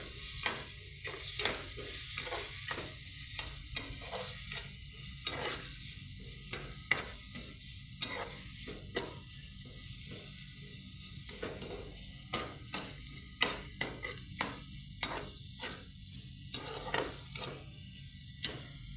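Food cooks in a pan of olive oil with pepper powder, a soft continuous sizzle broken by frequent scraping clicks of a utensil stirring, faint and close.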